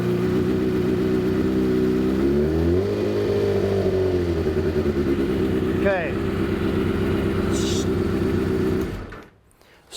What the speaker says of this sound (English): Now it says start the engine.